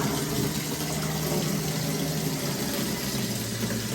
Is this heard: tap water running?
yes